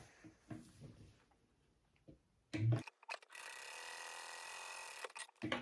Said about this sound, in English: I am going to sew down each side at a 3/8 inch seam allowance.